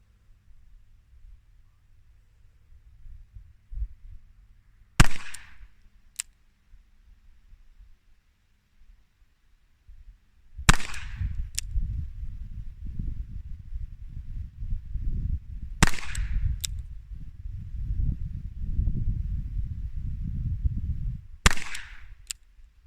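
A Colt Police Positive revolver fires 125-grain rounds in single action at 10 yards: four sharp, loud reports spaced several seconds apart, with a low rumble of background noise between them.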